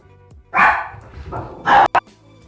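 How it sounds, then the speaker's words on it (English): A few sharp dog barks close by, two loud bursts with a quieter one between, then a brief click, otherwise quiet. "Sorry if you heard my dogs barking."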